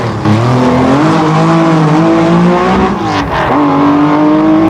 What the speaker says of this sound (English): Porsche 911 SC-RS.